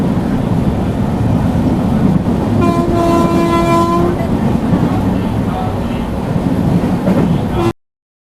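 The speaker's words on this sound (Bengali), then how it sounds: "2 মিনিট হল্ট দেওয়ার পর আমাদের ট্রেন ছেড়ে যাচ্ছে এখন হাসিমারা রেলওয়ে স্টেশন" The Kanchankanya Express pulls out of Hasimara station, its horn sounding a long, loud tone over the steady rumble and clatter of the moving carriages, then cutting off abruptly.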